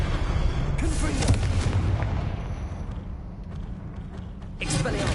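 The Confringo blasting spell from the Hogwarts Legacy video game, a heavy booming blast with rumbling that fades over a few seconds, followed by a second loud burst, with a voice speaking briefly.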